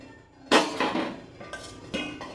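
Hot modaks are lifted from a pan with a metal spoon, giving a few sharp close clinks and scrapes of metal on metal spaced over a couple of seconds, with nobody talking.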